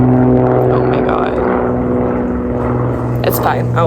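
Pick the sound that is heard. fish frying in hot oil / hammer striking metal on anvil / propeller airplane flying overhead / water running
propeller airplane flying overhead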